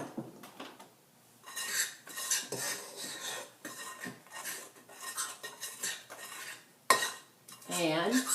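Cake mix with milk and melted butter stirred briskly in a bowl, repeated close scraping and clinking of a utensil against the bowl in uneven bursts with short pauses.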